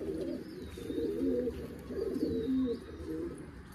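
Kalpotan pigeon cooing in low, rounded repeated phrases close by, with soft chirps from other birds in the background.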